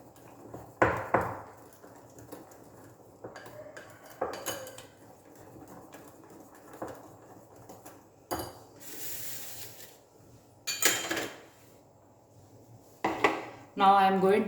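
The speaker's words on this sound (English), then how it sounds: "Mix well." A utensil clinks and scrapes against a bowl while cake batter with baking powder is mixed by hand, in irregular bursts separated by quiet pauses.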